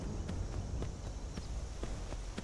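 Horse hooves clip-clopping at a steady walk down a mountain, evenly spaced soft thuds over low rumbling background noise, no talk.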